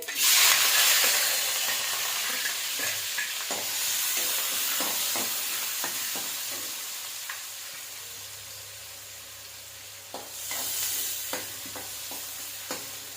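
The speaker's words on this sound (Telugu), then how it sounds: "సో ఫస్ట్ కొంచెం ఆనియన్ వేసాక అది కొంచెం మంచిగా ఫ్రై అయినాక" Chopped onion frying in oil with mustard seeds, urad dal and chana dal gives a steady close sizzle, broken by repeated spatula scrapes and taps against the pan. No one speaks.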